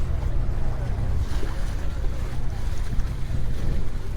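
A small boat motoring across the sea off St. Mary's Island, Udupi, with a steady low engine rumble and wind buffeting the microphone throughout.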